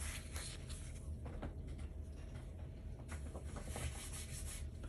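A Florida Gold Rush lottery scratch-off ticket is scratched close up, a quiet continuous rubbing and scraping with small irregular strokes for several seconds over faint room noise.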